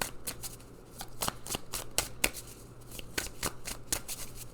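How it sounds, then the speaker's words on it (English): Oracle cards are shuffled and pulled from the deck in a steady, close flutter of crisp card riffles and slaps, continuous and fairly loud. "Let's pull some more cards."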